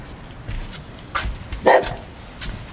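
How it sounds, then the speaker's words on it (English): A dog barks a few short times, with a small whimper or yip between barks, sharp and fairly close against a quiet background. "I don't know what dog that is."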